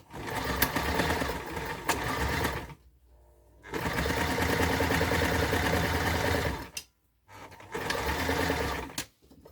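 A sewing machine back-stitches a mini pillow case cover in three loud, close, continuous runs of rapid mechanical chatter, separated by brief pauses.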